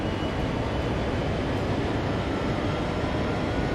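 A GP diesel locomotive in Train Sim World 2 on the Sand Patch Grade runs with a constant, loud broadband rumble and roar, unbroken from start to finish.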